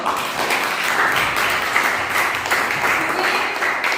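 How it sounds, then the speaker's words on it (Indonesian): Students in a civics classroom clap for a classmate, a fairly loud, steady round of applause lasting about four seconds with a faint voice mixed in. "tepuk tangan untuk Salvador"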